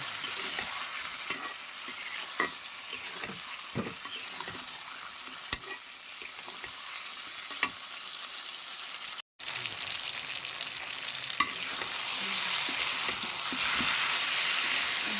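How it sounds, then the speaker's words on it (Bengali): Eggs, potatoes and onions sautéing in a pan with a splash of water, a steady sizzle broken by sharp scraping stirs from a spatula, with a brief dropout midway before the frying grows louder and fuller. "তারপর সামান্য একটু জল দিয়ে আবারও খানিক সময় কষিয়ে নেব।"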